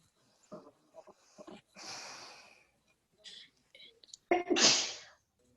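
A single sneeze bursts out loud and close near the end, after scattered quiet speech and a breathy snort-like sound earlier.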